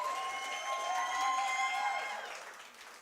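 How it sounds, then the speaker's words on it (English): An expo audience applauds and cheers a businesswoman coming up, with whoops and sustained tonal cheering over the clapping before it fades toward the end. "May we please welcome her with a huge round of applause"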